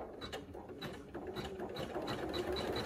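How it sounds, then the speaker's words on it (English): A single-needle embroidery machine stitches a reindeer's nose in red thread for an in-the-hoop hand sanitizer holder, a steady, fast mechanical chatter of needle strokes running continuously and close up, with no talking. "We're going to stitch a couple stitches,"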